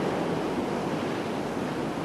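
Cold, miserable wind blowing outdoors, a steady broadband roar with surf-like gusting that stays loud and unbroken throughout, with no voices.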